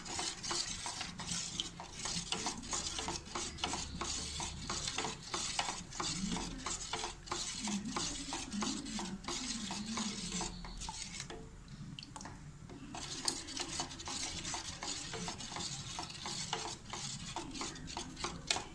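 Payasam made with Amrutham powder being stirred in a pan, a steady run of rhythmic scraping and rasping strokes that continues for the whole stretch with only a brief pause, close and fairly loud, with no talking.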